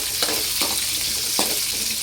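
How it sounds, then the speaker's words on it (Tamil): Small onions dropped into a frying fish curry base, with a steady hiss of hot oil and three brief scraping stirs against the pan, close and fairly quiet. "இப்போ சின்ன வெங்காயம் சேர்த்துக்கலாம்."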